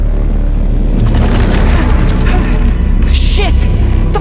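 A canister blown up in the game Atomic Heart, a loud, sustained rumbling blast that rolls on for several seconds, with debris and crackling sounds over it and some voices faintly mixed in.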